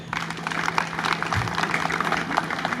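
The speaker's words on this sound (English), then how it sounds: "Let's clap for them." An audience at an event in Kumasi claps briefly, a soft scattered round of applause heard at moderate distance.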